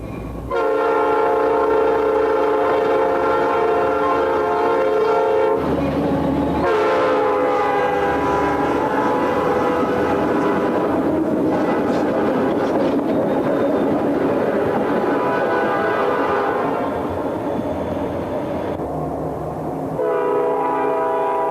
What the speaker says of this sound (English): SD40-2 powered pig train rolls southbound.